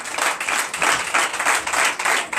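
Rhythmic clapping and applause from a church congregation during a Sunday worship service, loud and close with pulsing beats and no speech over it.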